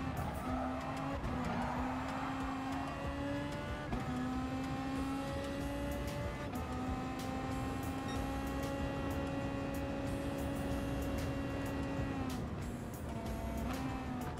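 Tires squeal and skid under hard braking on a Gr.3 Beetle race car in Gran Turismo Sport, a long, loud, wavering screech over a steady engine drone.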